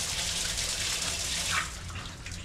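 Running tap water gushes steadily over a water filter spring as it is rinsed, with a brief louder splash before the flow settles.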